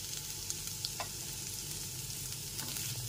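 Chopped beans and carrots fry gently in a pan over low-to-medium gas flame, giving a steady, soft sizzle with faint stirring clicks throughout.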